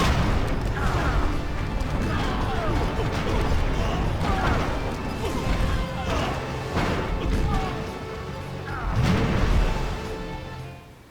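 Tank attacking in the Civilization Revolution strategy game, a dense stretch of rumbling booms, crashes and mechanical clanks that swells and fades, continuous and loud, with speech partly mixed in.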